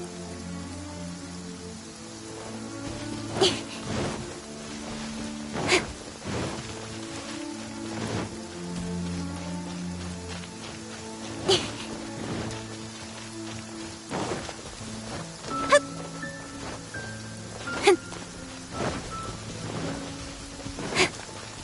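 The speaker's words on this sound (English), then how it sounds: "Wait a downpour. Nothing will get done until it clears." Heavy rain downpour in the video game Genshin Impact, a dense hiss of rain on surfaces with scattered thunder cracks and rumbles, layered over sustained game music tones and chords with no speech.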